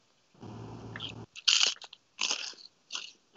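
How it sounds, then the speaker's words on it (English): A crunchy charcoal-grilled Gorgonzola flatbread is bitten up close: three sharp, crackling crunches in quick succession follow a lower chewing rumble, each bite loud and distinct. "We got a lot of crunch going on here."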